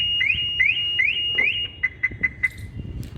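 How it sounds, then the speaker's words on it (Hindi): Beeps from a Maruti Suzuki Baleno Zeta smart key system as the touch sensor locks the car: a run of rising chirps followed by several short steady tones, clear and close with no talk. "टच सेंसर को मैं दबाऊंगा, ये एक बार बीप हुई और गाड़ी लॉक हो गई"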